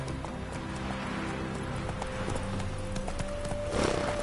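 Roach, a horse in The Witcher 3, moving at a steady clip-clop with hooves sounding continuously over a game backdrop of ambient noise and a sustained tone, with a brief louder burst near the end.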